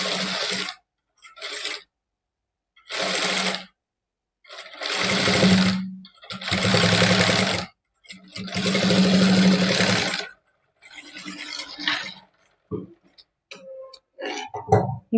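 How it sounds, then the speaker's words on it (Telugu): A sewing machine runs top stitching on a princess cut blouse in several distinct bursts of steady whirring, separated by pauses, close and fairly loud, with light handling clicks toward the end. "ఈ విధంగా టాప్ స్టిచ్ అన్నది వేసుకోవాలండి"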